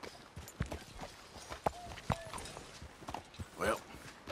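Scattered horse hoof clops in Red Dead Redemption 2, uneven and intermittent at moderate distance, with brief voices in the scene.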